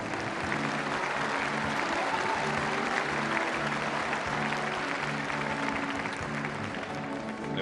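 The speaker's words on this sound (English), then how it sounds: "The applause for Miss Brazil" Audience applause for Miss Brazil at the 1974 Miss World beauty pageant, a sustained, dense clapping from a large crowd that stays loud and steady throughout.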